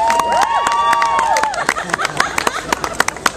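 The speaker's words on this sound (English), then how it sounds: "All right, give him some applause." A circus audience claps and cheers, with sharp hand claps and whoops rising over crowd noise; a whistle-like tone sweeps early, and the applause grows into scattered, punchy claps.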